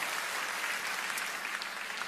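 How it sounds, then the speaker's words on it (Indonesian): Church congregation applauding during a worship service, a dense continuous burst of clapping that stays loud and even for about two seconds. "Kasih tepuk tangan yang luar biasa buat Tuhan."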